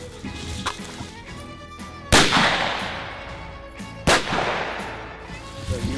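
Rifle shots fired at a target during a deer hunt ring out loud and close, two sharp cracks about two seconds apart, each trailing into a decaying echo over quiet outdoor background.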